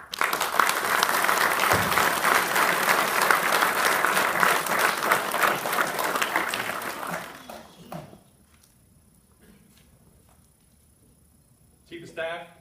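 An audience at a Navy chief pinning ceremony for Commander Submarine Squadron 11 in San Diego applauds loudly and steadily to welcome a Force Master Chief, the clapping fading out after about eight seconds before a near-silent hall and a brief voice.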